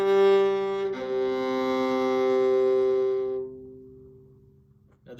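A viola string bowed in a single long sustained note, warm and steady, swelling slightly before fading into quiet.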